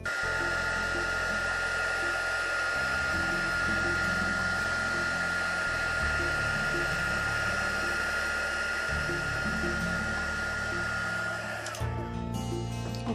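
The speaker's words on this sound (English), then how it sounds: "you're now ready to melt your embossing powder" An embossing heat tool blows a steady, loud, whining hiss over powder on a card, running continuously for about twelve seconds before cutting off near the end.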